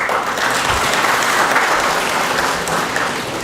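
An audience at a lecture on constitutionalism and artificial intelligence gives a sustained, even round of applause, dense clapping filling the hall with no voices over it.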